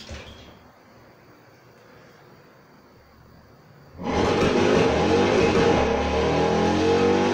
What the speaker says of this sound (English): I know you might recognize the sound of the engine